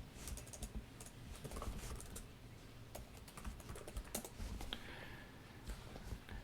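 Rapid typing on a computer keyboard while entering a command in a terminal: quick, irregular clusters of light key clicks with a few sharper taps, close and moderately quiet, with no one speaking.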